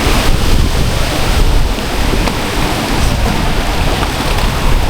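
Rough ocean surf breaking at the shore of a twin island, a loud continuous wash of waves mixed with heavy wind buffeting the microphone, no voices.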